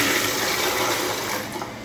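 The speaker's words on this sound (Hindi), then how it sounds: "चलो अब इसको फ्लश कर देते हैं" A toilet flush close by, a loud, continuous rush of water that holds steady for about two seconds and then eases slightly.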